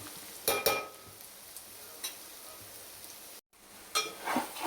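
Potato and carrot fry being stirred in a pan, a soft continuous sizzle broken by a few scraping stirs of the spoon, with a brief dropout near the end.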